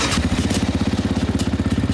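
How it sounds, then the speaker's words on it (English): A motorcycle at a beach race event runs in a close, steady noise test, its engine idling with a loud, even, rapid pulsing beat and no voices over it. "This is the bike that we picked out in scrutineering that we believe is going to be too noisy"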